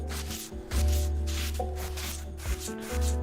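P40 sandpaper sanding in Car Detailing Simulator, a loud, close, steady rasping rub in repeated back-and-forth strokes over a low droning hum, with no talk.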